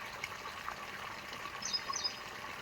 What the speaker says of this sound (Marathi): पाणी चालू आहे पाण्याचा आवाज येतो आहे